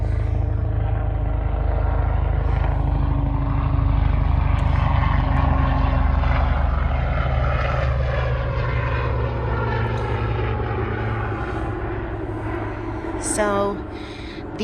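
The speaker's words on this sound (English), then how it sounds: "It's one of the many helicopters flying above me." A low, steady rotor drone rumbles overhead throughout, with someone talking over it.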